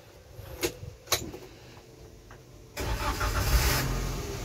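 A 2020 Gran Max pickup truck engine with 168,000 km turns over and settles into a steady, rumbling run after a few faint knocks, close by with no talking.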